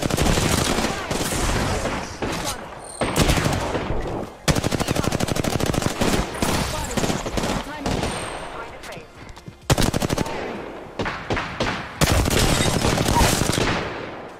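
Rapid automatic gunfire in the battle royale shooter Apex Legends, with long loud bursts broken by brief pauses and scattered single shots throughout a heated firefight.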